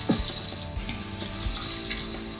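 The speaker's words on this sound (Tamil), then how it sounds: "இந்த ஸ்டஃப் பண்ணி வச்ச கத்திரிக்காயையும் எண்ணெயில் போட்டு ஒரு 5 நிமிஷத்துக்கு நம்ம இதை வதக்கணும்" Stuffed eggplant frying in oil over a low flame gives a steady, fine sizzle with a few soft clinks and scrapes of a utensil against the pan.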